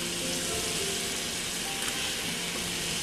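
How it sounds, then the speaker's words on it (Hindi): Chicken pieces go into sizzling Thai red curry paste in a pan, giving a constant, loud hiss of frying with faint stirring underneath and no talk. "अब हम इसमें चिकन डाल देते हैं और इसके साथ हम डालेंगे नमक"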